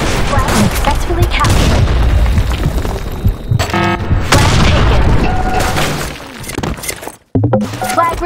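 Grenade explosions in the Blackshot shooter game: loud booms and shattering crashes within dense, chaotic battle noise, a brief dropout near the end, then more blasts; voices shout in game.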